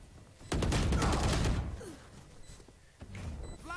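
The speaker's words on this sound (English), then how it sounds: "It's Freestein going sniper with the shotgun once again" Shotgun fire in a competitive esports shooter match, a rapid burst of loud close blasts followed by quieter thuds and game effects.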